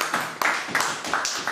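An indoor meeting audience applauds to welcome a speaker, a brief, fairly faint patter of clapping under a cheer-like voice.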